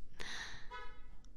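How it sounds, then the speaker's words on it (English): A short car horn honk sounds once, a bright tooting burst that fades quickly in a quiet room during an ASMR stream. "Honk."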